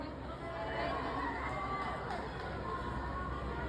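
Concert audience in a venue called Skydome shouting and cheering together, a dense, steady roar of many voices filling the space at close range for several seconds.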